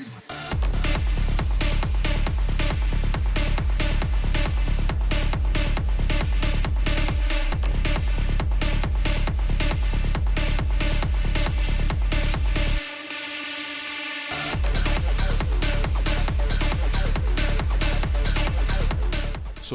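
Oldskool rave track built in FL Studio: loud, dense electronic music driven by a steady pounding kick, with a short breakdown where the bass drops out before the full beat slams back in.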